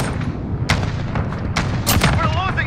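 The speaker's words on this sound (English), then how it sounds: "Phoenix 3-1. Dropping white phosphorus." Airstrike dropping white phosphorus in a Call of Duty Modern Warfare ground war match, with repeated loud booming blasts and gunfire bursts over a steady rumble.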